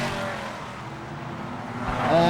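BriSCA F1 stock cars race around an oval track at the 2001 World Final, a continuous roar of engines from the pack that rises as a car passes closer near the end.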